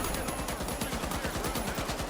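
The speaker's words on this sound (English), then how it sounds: "the bullets ringing through the non-stop fire of an M60." Non-stop automatic fire from an M60 machine gun in The Finals shooter game, a fast steady rattle of shots with ringing bullets, continuous and fairly dense throughout.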